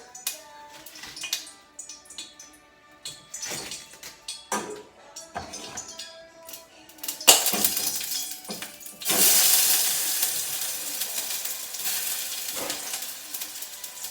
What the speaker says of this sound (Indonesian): Saya goreng.